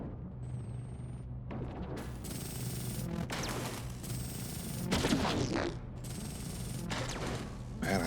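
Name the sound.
torpedoes firing in video game Endless Space 2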